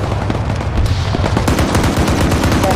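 Heavy .50 cal machine gun on a Humvee in ARMA 3 fires a sustained, loud, rapid burst of thudding shots, close and continuous throughout with no talking.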